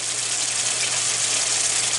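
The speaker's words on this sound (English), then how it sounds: "This is up back to a boil." A pot of water comes back to a rolling boil for shrimp curry, heard close up as a steady, dense hiss and rush with no pauses.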